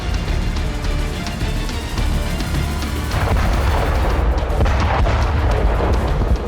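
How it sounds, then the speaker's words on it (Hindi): Heavy booming blasts of wartime explosions in Kherson, Russia-Ukraine war, burst through a constant loud roar, with sharper explosive cracks landing near the middle and late stretch. "बिल्डिंग में घुसने से पहले एक जोरदार धमाका होता है"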